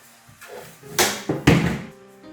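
Folding kitchen table being collapsed at home: a few close wooden thunks and knocks in quick succession, two louder clacks as the leaves drop, with a soft creak trailing off.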